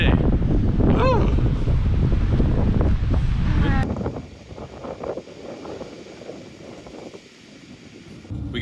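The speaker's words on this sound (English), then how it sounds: "And it's very windy, just like the other day." Strong wind buffets the microphone at Wild Goose Island Overlook in Glacier, roaring loudly for about four seconds and then dropping to a lighter gusting with brief voices.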